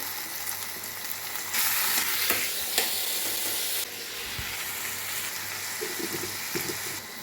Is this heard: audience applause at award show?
no